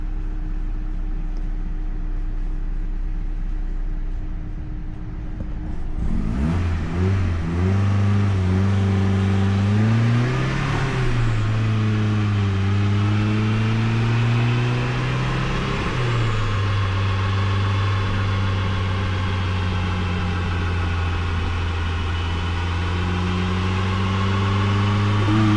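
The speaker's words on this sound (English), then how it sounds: "I think we're good for a baseline pull to redline." A 2005 Mazda MX5 Mazdaspeed, turbocharged and tuned on Megasquirt, idles on a dyno, then its engine climbs in a long pull toward redline, pitch rising through gear-like steps, loud and close without talk.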